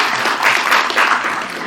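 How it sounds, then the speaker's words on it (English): Applause at a city commission meeting for award and proclamation recipients, a short burst of group clapping at close range, with no talk over it. "how about one more round of applause to everybody to receive the awards and proclamations tonight"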